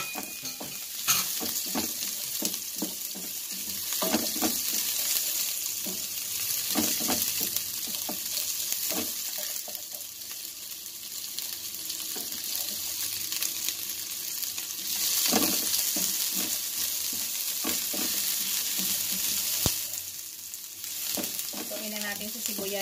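Onions frying in a pan for pork chop steak, a steady loud sizzle broken by repeated scraping stir strokes, close by throughout.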